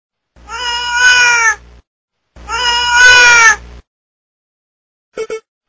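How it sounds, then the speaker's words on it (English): A domestic cat gives two long, loud, drawn-out meows close up, followed after a pause by a short, clipped third call. "Cat."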